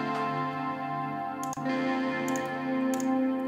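Electric guitar recorded from an amp with heavy reverb, vibrato and tremolo, sustained shimmering chords with a wavering pulse and a brief dip partway through, no voices.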